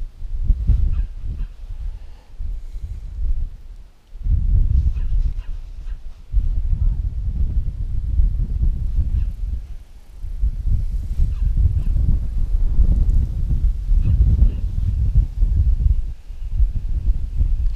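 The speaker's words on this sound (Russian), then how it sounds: "Ветер сильный дует." Strong wind blows by the Moksha river at a fishing spot, buffeting the microphone in loud, deep rumbling gusts that rise and drop over the whole stretch with only brief lulls.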